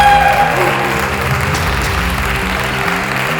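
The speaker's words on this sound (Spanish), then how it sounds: "Un aplauso a todos." Audience at an international circus festival in Zaragoza applauding steadily in a dense, continuous wash of clapping, with faint music or voices underneath.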